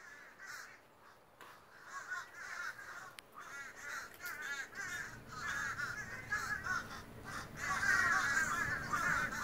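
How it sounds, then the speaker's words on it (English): Dozens of crows caw from an old oak tree at Boyett's Grove roadside attraction: repeated harsh caws overlap in irregular bursts, moderately distant and fairly quiet, with no talking. "there were dozens of crows in this old oak tree"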